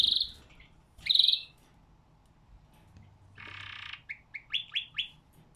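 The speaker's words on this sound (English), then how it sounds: "Yeah, you sing it, my lovely birdie." A caged pet bird sings nearby: two bright, piercing whistled notes spaced apart, then a short buzzy burst and a quick run of rising chirps, loud and close against a quiet room.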